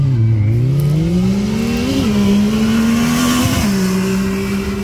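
Side-by-sides, a Can-Am X3 and a Yamaha YXZ 1000R, drag racing: a loud, sustained engine drone rising in pitch as they accelerate, with a brief shift near the end.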